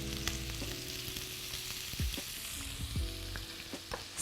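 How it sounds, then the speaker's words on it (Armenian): Boiled potatoes frying in oil, a soft steady sizzle heard up close with a few low knocks and scrapes, no talking. "ընդամենը պետք է մի փոքր թողնենք յուղի մեջ տապակվի"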